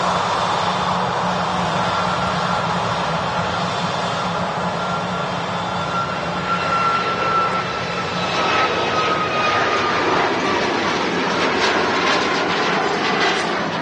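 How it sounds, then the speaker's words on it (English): A Ryanair Boeing 737 MAX jet at Manchester Airport roars steadily at moderate distance, its broad engine rumble and whine holding for the whole stretch and swelling slightly toward the end. "That Ryanair Max there."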